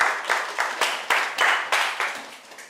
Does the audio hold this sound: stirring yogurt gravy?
no